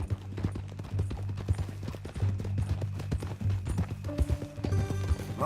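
Horse hooves clip-clopping steadily in Red Dead Redemption 2, an even walking rhythm close by over a low droning hum, with a soft snort near the end and no speech.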